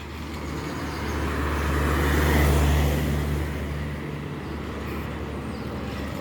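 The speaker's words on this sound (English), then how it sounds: "I wanted to show you guys the traffic" Road traffic near a small supermarket in Martinique, a steady broadband roar of passing cars with a low engine hum that swells around the middle and then eases back.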